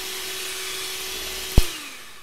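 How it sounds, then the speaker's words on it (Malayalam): An electric hand beater whips egg whites with a steady motor whine, then knocks once against the bowl and winds down to a lower pitch. "ഞാനൊരു ഇലക്ട്രിക് ബീറ്റർ ഉപയോഗിച്ചാണ് കേട്ടോ അടിച്ചെടുക്കുന്നത്."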